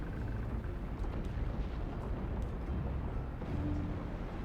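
Rumbling low booms from fireworks going off in the Tavern Talk video game, a steady dull roar of bursts rolling on with no clear separate pops.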